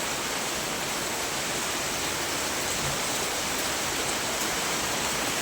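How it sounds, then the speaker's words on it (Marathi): Heavy rain pattering on tree leaves, a dense, steady wash of hiss that stays even and unbroken throughout, with no voices. "आणि या झाडामुळे इतकं रप रप रप रप वाजायला लागले पावसावर"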